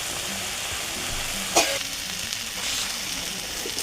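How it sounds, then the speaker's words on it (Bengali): Ginger paste masala with turmeric, salt and a little water frying steadily in a pan, a constant close hiss with one sharp spatula clink and faint stirring scrapes. "আমি আস্তে আস্তে মশলাটা ভালো করে ভেজে নেব"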